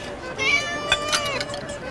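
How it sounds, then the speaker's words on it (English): Cat meowing close by, a short plaintive mew with a second brief cry, set against quiet room tone and soft background voices. "Oh, look, a kitty."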